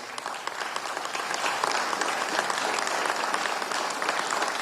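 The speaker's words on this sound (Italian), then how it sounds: "Ancora un applauso." An audience applauds steadily and densely at a Venice Biennale Arte 2026 event, a full, even wash of many hands clapping throughout with no voices standing out.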